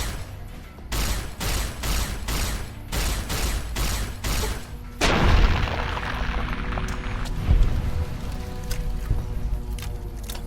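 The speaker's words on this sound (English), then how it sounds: "Frag grenade." A frag grenade goes off in the Fallout New Vegas game amid heavy gunfire, a loud booming blast about halfway through that rumbles over rapid repeated shots and keeps ringing beneath continued firing.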